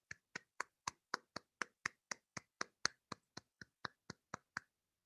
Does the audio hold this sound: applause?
yes